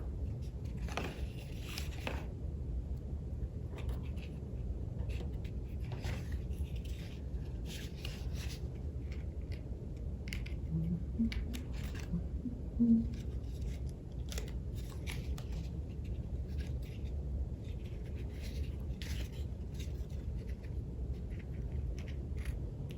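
Scissors cut around an egg carton with scattered crisp snips and crunches of cardboard, close and fairly quiet over a low background hum.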